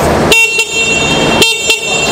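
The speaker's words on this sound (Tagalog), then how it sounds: "Busina yan. Sa kabila, busina rin. Kabilaan ng busina." An electric big bike's horn sounds in two short, loud, bright honks from close by, separated by about a second of the steady horn tone.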